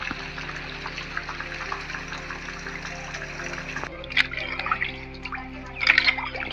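Rainwater trickles and drips on a farm during heavy rain while pineapples are being planted, soft scattered drops over a steady low hum, with a few brighter splashes near the end.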